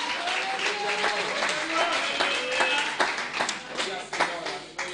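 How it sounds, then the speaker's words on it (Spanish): Church congregation clapping and cheering for Christ during an annual retreat service, a dense, sustained round of applause with voices calling out over it. "Dele un aplauso a Cristo"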